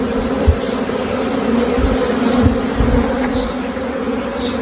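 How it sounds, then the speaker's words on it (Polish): A steady, dense buzzing of many agitated honeybees at an opened hive fills the air, close and continuous, with occasional individual bees droning louder as they pass. "A wszędzie troszeczkę pszczoły pobudzone."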